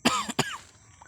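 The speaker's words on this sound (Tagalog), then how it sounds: "Ay ubo tayo." Two quick, sharp coughs in a row, close and fairly loud, then a short quiet breathy tail.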